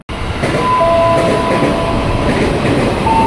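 A KRL commuter train bound for Bekasi rumbles steadily along, loud and close, with a continuous low roar, faint rail clatter and a thin whine rising over it.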